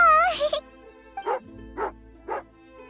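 A dog barks in the video game Genshin Impact, a short yelping whine followed by three evenly spaced, moderately loud barks over a soft background drone.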